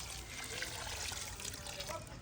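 Water trickles and splashes steadily onto newly planted plants outdoors in a Pakistani village, a soft continuous flow heard quietly with faint background noise.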